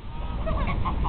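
Geese honk in a park, several short nasal calls in quick succession over low background rumble, fairly close.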